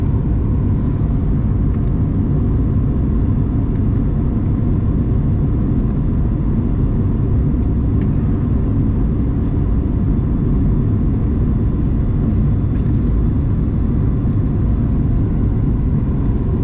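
Steady, loud low-frequency roar of an Alaska Airlines Boeing 737 MAX-9 cabin on short final approach into Honolulu, a continuous engine and airflow rumble with no talking.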